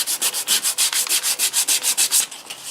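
Wood filled with lacquer sanding sealer paste being sanded by hand, a fast run of about fifteen regular back-and-forth rasping strokes, close and loud, slowing slightly at the end, with no talk.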